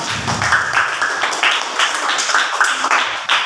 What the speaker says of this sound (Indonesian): Beri tepuk tangan untuk Mas Ilham.